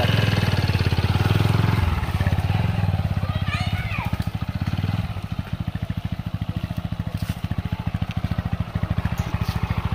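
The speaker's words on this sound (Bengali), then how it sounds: "বাবা বাইক এখানে রেখে দিচ্ছে।" A motorcycle parked in a garage under a tree idles nearby with a steady rapid putter, loud and close, with a low hum under it early on, then a cleaner pulsing beat, and brief chirps over it.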